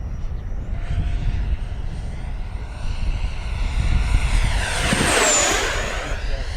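An XFly Sirius 80mm RC jet makes a fast flyby. Its steady ducted-fan roar swells into a loud, rising-then-falling whine as it passes close overhead, then fades back to a constant drone.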